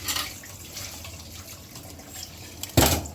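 Tap water runs at a sink while dishes are washed, a steady close wash of water that swells into a sudden louder gush near the end.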